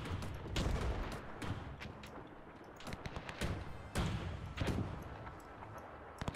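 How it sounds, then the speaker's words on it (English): Heavy artillery fire in the WW1 strategy game Between Empires, a dense run of booming impacts and gunfire thuds at an irregular rhythm, some near and loud, others rolling behind. "Loads of artillery, it's mostly."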